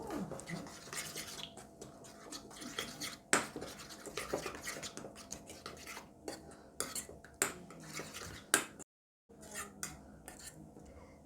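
Roast goat meat seasoning ingredients being stirred together in a bowl, giving close, irregular scraping and clinking of a utensil with rhythmic bursts and a short pause near the end.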